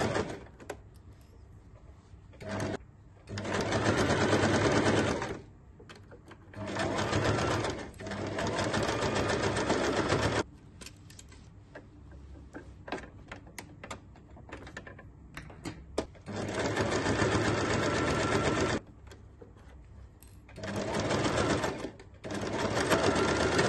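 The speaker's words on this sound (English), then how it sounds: "sew the pinned line" A sewing machine stitches a pinned seam on the lining of a roll-up bag in loud, steady bursts of rapid whirring. Short pauses separate the runs, with faint handling noises between them.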